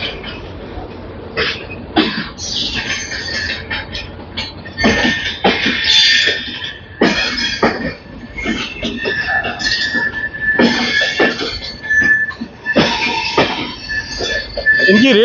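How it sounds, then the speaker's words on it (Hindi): The GT Express and Ranchi Rajdhani pull out side by side from New Delhi station with rattling wagons, wheel clatter and squeals, and sharp metallic knocks. Station noise and coughs mix in, with a voice now and then. "दोनों गाड़ियाँ हैं पैरेलल निकलते हुए, GT express versus Ranchi Rajdhani"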